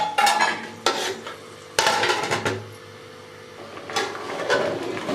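A metal lid clatters onto a cooking pot of chicken vegetable biryani. Several loud, close clanks and scrapes of metal on metal come in bursts, with no talking.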